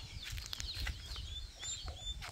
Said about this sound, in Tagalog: anak ng pabo ito.